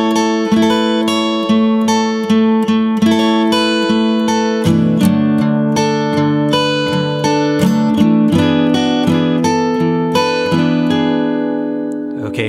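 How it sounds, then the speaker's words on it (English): Acoustic guitar playing the full first line of a song intro, steady picked notes and ringing chords in a continuous rhythmic pattern, close and clear with no talking. "you put the entire first line of tablature together and it should sound like this"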